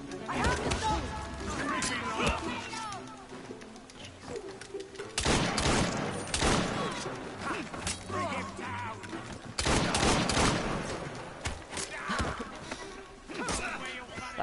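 Bursts of gunfire in Assassin's Creed Syndicate, loud clustered volleys breaking out in two or three heavy bursts amid game noise and clatter.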